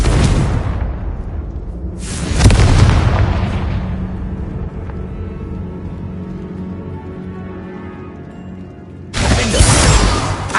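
Loud Confringo spell blasts in the Hogwarts Legacy video game: a heavy explosive burst erupts, rumbles and fades over several seconds, then a second booming explosion crashes in near the end, close and powerful with no talking.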